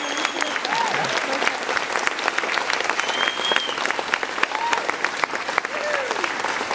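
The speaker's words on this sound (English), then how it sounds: "Give him a huge, huge round of applause." A concert crowd at a show in Luxembourg applauds the drummer, producing dense, sustained clapping from many hands with scattered cheers and whistles throughout.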